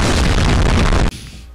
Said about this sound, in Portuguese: Já coloca uma explosão aqui.